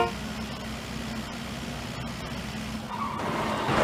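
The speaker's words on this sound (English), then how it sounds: "So this is the little car." A small car driving in a survival video game, its steady engine drone running evenly throughout and rising slightly louder toward the end.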